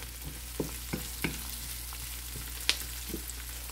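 Garlic and onions fry in a pan for beef kaldereta, giving a steady close sizzle broken by occasional clicks of a utensil, with no voices.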